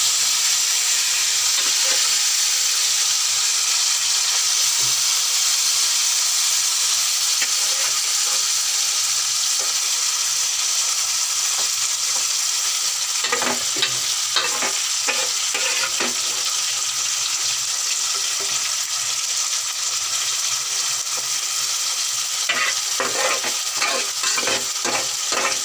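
Marinated fish frying in hot oil, cooked with potatoes: a loud, steady sizzle throughout, with bursts of scraping stirring toward the middle and end.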